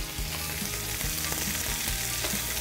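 Sausage and other ingredients fry in a paella pan for paella valenciana, giving a steady loud sizzle and crackle with faint stirring scrapes and no voices.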